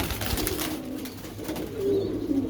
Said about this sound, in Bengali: এই 5 জোড়া কবুতর নিতে চান, ইনার এক জোড়া কালদম আছে